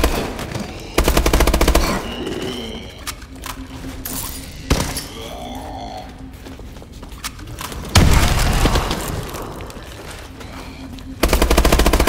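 Rapid automatic gunfire in Call of Duty: Advanced Warfare, loud sustained bursts of machine-gun fire with heavy booms and thuds, several long volleys separated by quieter stretches of battle noise.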